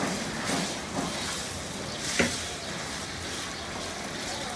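Capsicum and onion stir-fried in a hot pan for chili chicken, giving a steady sizzle with a soft scrape of stirring partway through.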